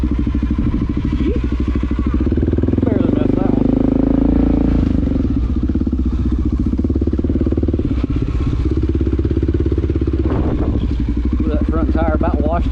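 An XR650L motorcycle being ridden through woods, its engine a loud, steady throbbing drone with clattering knocks and a few pops, with a voice talking over it throughout.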